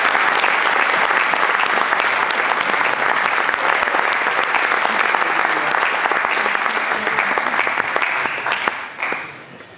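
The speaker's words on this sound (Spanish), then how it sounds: "Un fuerte aplauso" A large audience gives a long, dense round of applause to welcome a lecturer before his talk, steady and loud from start to finish before fading out at the end.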